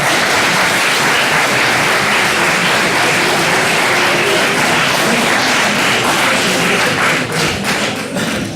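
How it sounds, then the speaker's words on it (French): Courtroom audience giving a loud, sustained round of applause for lawyer Julie Bonnier, dense clapping that runs throughout and thins into scattered claps near the end. "exhorter la salle à applaudir Julie Bonnier qui a si bien honoré son serment d'avocat"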